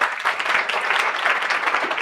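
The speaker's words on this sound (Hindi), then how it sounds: "तो हम चाहेंगे एक बार जोरदार तालियों के साथ बेटी का" An audience at a recognition event gives a short, dense burst of clapping, loud and close, lasting about two seconds with no voices over it.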